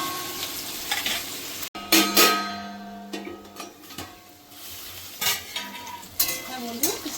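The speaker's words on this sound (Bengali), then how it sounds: "তা ভালো করে একটু পেঁয়াজটা ভাজা হোক" Onions frying in a pan for a Gondhoraj chicken curry, a steady close sizzle broken by repeated scraping stirs and clinks of a spatula against the metal.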